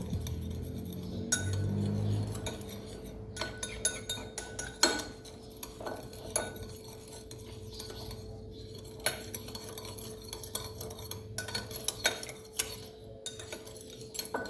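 A spoon stirs oil-based stir-fry sauce in a bowl in a Thai kitchen, scraping and clinking steadily for several seconds, close and fairly quiet, with no talk.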